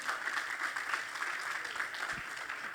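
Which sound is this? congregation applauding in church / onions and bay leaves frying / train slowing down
congregation applauding in church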